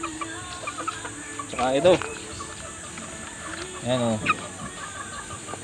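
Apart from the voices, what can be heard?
young Black Pumpkin hatch chickens clucking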